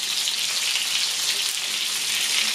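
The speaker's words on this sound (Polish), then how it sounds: "I podsmażamy też do zarumienienia." Minced meat patties fry in a pan over low heat, giving a steady, close hiss of sizzling fat that continues without a break and with no voices.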